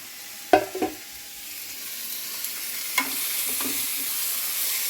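A spoon stirs a mix of curd, salt, cumin and dosa batter in a pan, giving a few sharp clinks and scrapes early on, one more near the end, over a soft continuous sizzle.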